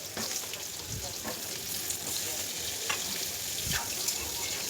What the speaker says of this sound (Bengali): আলুগুলোকে ভালো করে আমি তেলের সাথে মিশিয়ে ভেজে নিচ্ছি।